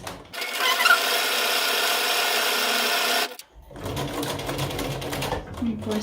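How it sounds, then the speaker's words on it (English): A sewing machine stitches the curved front seam of a simple fabric face mask, a steady loud motor whir for about three seconds that stops abruptly, followed by talking and fabric handling. "for the first seam, we're just gonna go across the front curved edge of the mask"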